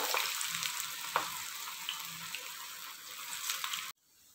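Cauliflower fritters (bajo/bhajia) crackle and sizzle steadily in hot oil, a dense, continuous frying hiss with a few sharper pops, close and fairly loud, then cut off abruptly near the end.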